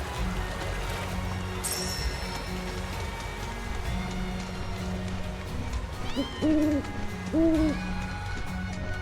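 An owl hoots in the video game Final Fantasy 7 Rebirth, in the Gongaga area. Two clear, close hoots come about a second apart near the end, over a constant rain-like ambient hiss.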